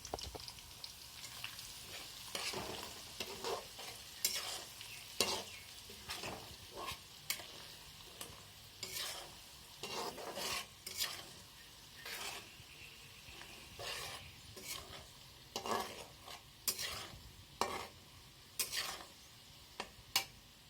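Ground spice masala sizzling and being stirred in a pan for mango pickle, a continuous close frying hiss with repeated sharp scrapes and clatters from the spoon throughout.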